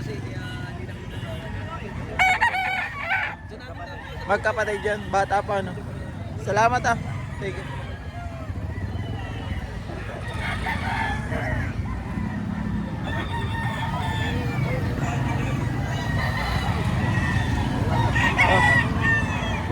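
Roosters crow several times at a roadside stall on a Saturday morning market, the calls standing out mid-distance over steady traffic noise and people chatting and bargaining nearby.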